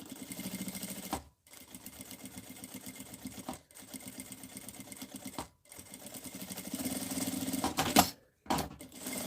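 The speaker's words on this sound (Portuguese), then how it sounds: "vou passar um pesponto de meio pé de máquina em volta aqui" A sewing machine topstitches a half-foot seam around the edge of a fabric wallet flap, running in loud, steady whirring bursts of about two seconds each, separated by short pauses.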